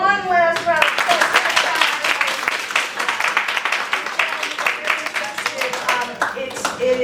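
An audience at an improv comedy show claps and applauds in a dense, steady patter of many hands, fairly close and continuous, with a voice over it at the start.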